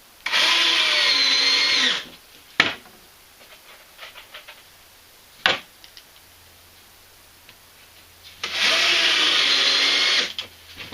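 A power drill drives screws into plywood in two bursts of about two seconds each, close and loud, with sharp knocks and quiet handling noises in between.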